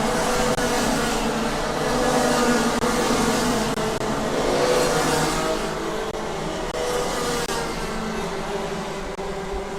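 Race cars lap a circuit in a live race, a continuous far-off engine roar that rises and falls as the cars pass, steady with no distinct close pass-bys.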